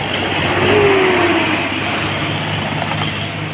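A Trobo bus overtakes on a bend of a high-speed road, a loud continuous engine roar and road rumble rising slightly, close and steady throughout.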